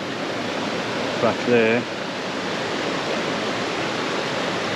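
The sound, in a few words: running water of a mountain stream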